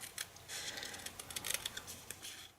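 Quiet snipping of scissors fussy cutting around a word stamped on a scrap of white cardstock, a quick run of small crisp cuts at close range with no talk.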